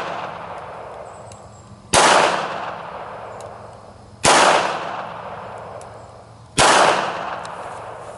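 Hammerli 208 International .22 semi-auto pistol fired outdoors, three loud sharp shots spaced about two seconds apart, each with a ringing tail that decays before the next, and no talking.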